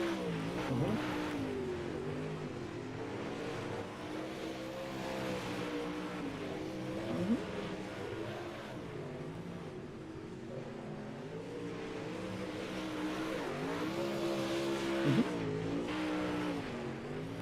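Super late model race cars circle a speedway in the iRacing sim, engines droning and revving together in a steady, loud pack with shifting pitch, no voices over them.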